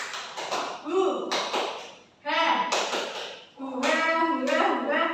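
A third-grade class does a rhythmic 'tepuk semangat' clapping chant, with crisp hand-clap patterns and chanting voices in three short bursts separated by brief pauses.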